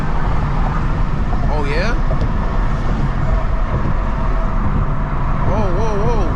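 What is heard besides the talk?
BMW M2 engine intake noise while accelerating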